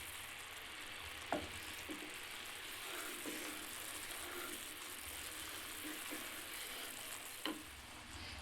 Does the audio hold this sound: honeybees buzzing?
no